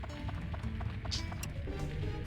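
Heavy dragon footsteps from the video game Dark Cloud thud in a steady, plodding rhythm over a low rumbling game background, moderately loud, with a brief hissing accent partway through.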